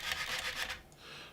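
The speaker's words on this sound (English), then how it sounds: "lightly sand it." A plastic model kit part is lightly sanded with a medium sanding stick, making quick close rasping strokes in a steady back-and-forth rhythm, followed by a softer final rub, with no talk.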